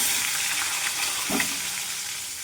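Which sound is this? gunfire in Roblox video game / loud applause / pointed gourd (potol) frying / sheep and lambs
pointed gourd (potol) frying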